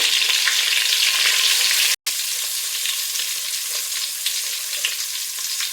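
Six eggs frying in hot oil with turmeric, a loud steady close sizzle with a brief cutout near the middle, no talk.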